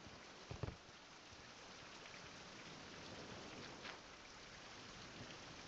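Steady rainfall in the survival game Survival: Fountain of Youth, a dense, even hiss with a couple of faint thumps, soft and continuous.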